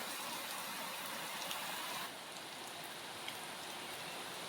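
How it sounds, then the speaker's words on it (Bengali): Dense, steady heavy rain hissing across the whole clip, close and loud, with no voices. "দেখো কি পরিমাণে বৃষ্টি নেমেছে"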